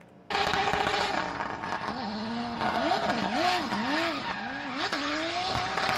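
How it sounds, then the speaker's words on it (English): A big turbocharged car engine revs and drops out of boost as the clutch works, its pitch swooping up and down in repeated waves with tire-like squeal and steady loud roar throughout, no talk. "Listen to the clutch work and what the engine's doing."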